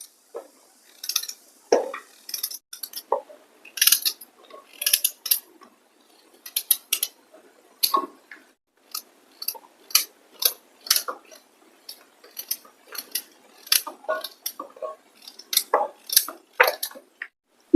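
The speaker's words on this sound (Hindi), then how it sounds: "इस तरह से गाजर को छोटे छोटे पीस में कट कर लेते हैं" Carrots being chopped into small pieces with a knife on a cutting board, a steady run of sharp, close taps, some quick and clustered, others spaced out, with no voices.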